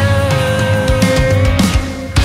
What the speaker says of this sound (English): So we're getting the drum fill because that's building up into the chorus and then a big hit on the first beat